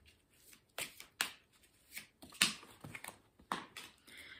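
Oracle cards are shuffled by hand in a quiet room, giving soft, crisp riffling bursts in an uneven rhythm. A few cards slip out during the shuffle, and there is no talking.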